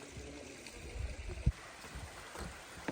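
Warm hot spring water seeping out of the creek banks into an Alaska-bound roadside creek, a soft continuous trickle and low flowing wash with a few faint knocks, steady and fairly quiet.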